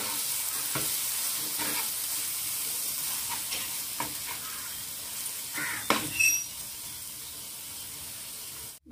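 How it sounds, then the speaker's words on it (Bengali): Ground coriander and cumin with Kashmiri chilli powder sauté in a pan for a Bangladeshi-style egg bhuna, giving a steady close sizzle broken by a few scraping stirs, with a brief louder clatter near the end. "আবার ওই মশলাগুলোকে ভালো করে কষিয়ে নেব।"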